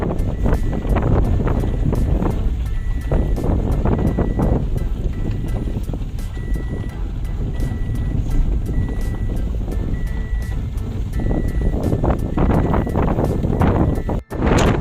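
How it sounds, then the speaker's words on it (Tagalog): Strong wind buffets the microphone in heavy, continuous gusts, roaring and rumbling throughout with no clear voices. "Grabe, ang lakas ng hangin."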